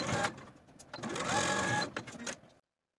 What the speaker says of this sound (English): And then I'm going to sew these side seams with a 5/8 inch seam allowance and press the seams open.